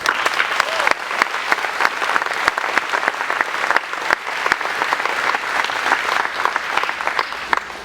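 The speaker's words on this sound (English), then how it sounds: "This group deserves an applause." Audience applause at a Metro Nashville Police Department graduation ceremony: a large crowd claps loudly and steadily for several seconds, dense and continuous with a few sharp individual claps standing out.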